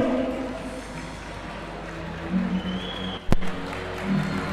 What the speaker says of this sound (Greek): Όλο το Δημήτρος Βικέλας χειροκροτεί τις προσπάθειες των δύο παιδιών του Άρισου